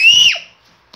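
A single short, loud whistle from a person, gliding briefly downward before stopping, followed by near silence.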